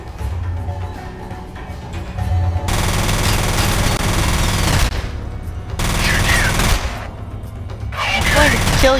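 Rapid automatic gunfire in F.E.A.R. Perseus Mandate crackles in loud sustained bursts, with a brief pause between volleys and game effects layered over the shooting; a voice talks during the quieter opening.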